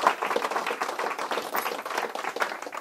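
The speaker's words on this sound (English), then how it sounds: "Let's have a big round of applause for Jesse and for John." An audience at an escape artist stage show claps for two volunteers, a light, fairly thin spread of hand claps continuing steadily at moderate loudness, without talk.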